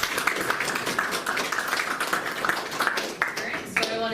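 Clapping fills a room at a candidates forum for an Ohio House election, a brisk crowd applause with quick uneven claps while voices carry through it.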